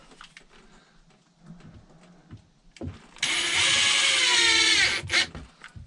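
A power drill drives a screw into a wooden battery shelf aboard a wooden Tahiti gaff cutter, starting with faint handling noise and then a loud, close whir for about two seconds that winds down at the end.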